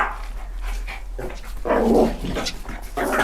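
A dog excited by water yelps, whines and barks in short bursts close by, with splashing and rustling around it and no clear talking.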